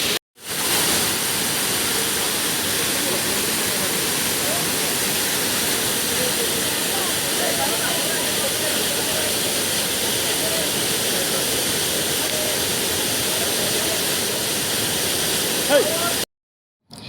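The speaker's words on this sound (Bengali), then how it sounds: "ওয়াও, এটা হচ্ছে বামনি ফলস। কতটা জোরে আওয়াজ হচ্ছে শুনতেই পাচ্ছ।" Bamni Falls in Purulia roars as a loud, dense, steady rush of falling water, close and continuous for about sixteen seconds, then cuts off abruptly.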